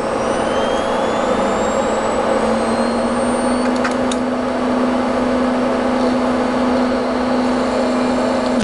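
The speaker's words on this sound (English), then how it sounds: "Here, the disk drive's spinning up." Disk drive spinning up inside an HP rx2600 server, heard as a steady loud whir that rises in pitch and holds, over broad continuous fan roar and a few faint clicks.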